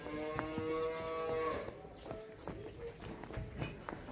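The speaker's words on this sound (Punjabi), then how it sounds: "ਪੂਰੀ ਫੁੱਲ ਬਰੀਡ ਦੇ ਵਿੱਚ ਬੋਦੀ ਵਾਲੀ ਗਾਂ" Full-bred dairy cow with a topknot, a two-toothed young cow offered for sale on a Punjab farm, lowing in a long, loud moo followed by shuffling hoof steps and scattered farmyard knocks.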